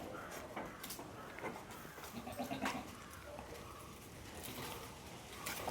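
Goats on a goat farm by a community hall in Maranchery, Malappuram, bleat faintly now and then over a quiet, hissy outdoor background, some distance away.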